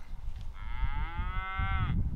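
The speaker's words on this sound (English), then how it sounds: "Cows trying to interrupt it." A cow moos nearby in one drawn-out, tonal call rising from low rumbling farmyard noise.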